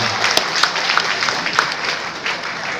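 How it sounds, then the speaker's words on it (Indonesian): An evening audience at a Riway company testimony event applauding guests, a loud sustained round of clapping from a crowd with some sharp nearby claps, steady across the whole stretch. "saya ingin pinjam tepuk tangan hadirin untuk teman-teman kita yang sudah hadir malam ini"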